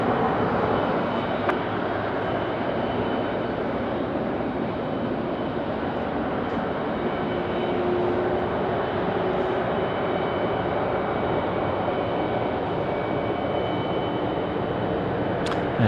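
Toll freight Boeing 737-400 jet departing Sydney Airport at night, a broad steady rumble and roar of jet engines heard from a distance, sustained and even throughout with no voices.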